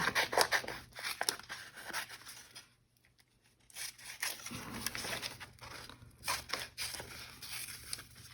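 Scissors snipping through paper while cutting out a vintage flower tag for a journal, a close, quiet run of crisp cuts and paper rustles with a brief pause midway.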